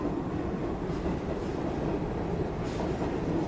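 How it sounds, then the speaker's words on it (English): A train rolls into a station, a loud continuous rumble of wheels and carriages with a faint clatter throughout and no voices. "Dad, I hear the train coming."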